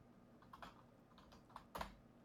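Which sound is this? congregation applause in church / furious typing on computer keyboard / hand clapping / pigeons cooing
furious typing on computer keyboard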